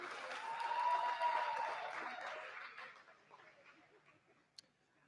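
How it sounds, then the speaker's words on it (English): Applause from an awards ceremony audience starts full and close, swells briefly, then thins out and fades over several seconds, ending with a few scattered claps and a final sharp one. "So a round of applause for the Satanists in the audience"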